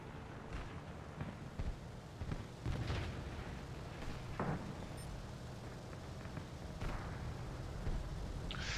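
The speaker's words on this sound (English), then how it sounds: "now I'm shooting this MC200, and he's toast" Aircraft gunfire in War Thunder, with a Beaufighter or D.520 shooting down an MC200 fighter: several short, punchy bursts and thuds spaced a few seconds apart over a constant engine-like rumble.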